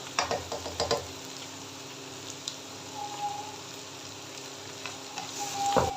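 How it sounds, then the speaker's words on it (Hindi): Cabbage being stir-fried for vegetable fried rice: a soft, continuous sizzle with a few clattering stirring scrapes at the start and again near the end, fairly quiet. "एक दफ़ा हल्का सा स्टेयर करने के बाद साथ ही हम इसके अंदर कैबेज ऐड कर देंगे।"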